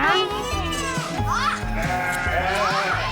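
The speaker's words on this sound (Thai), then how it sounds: "ตอนนี้น้องกำลังป้อนนมเจ้าแกะตัวน้อยนะ" A small lamb bleats repeatedly while being bottle-fed milk, quavering cries layered under a child's chatter and an adult's voice close by.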